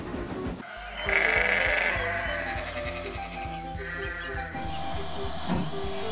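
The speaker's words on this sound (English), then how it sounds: "I don't believe it. Sheep?" Sheep bleat loudly and repeatedly near a train, the calls overlapping in long wavering cries over a steady low rhythmic chugging.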